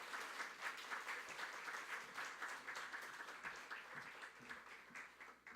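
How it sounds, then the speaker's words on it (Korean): Congregation applause fills a Korean-language Sunday service at Onnuri Church in Osaka, welcoming a visiting speaker to the front; steady, dense clapping from a crowded room holds at a moderate level throughout, with no talk over it. "박수로 맞이해 주시기 바랍니다."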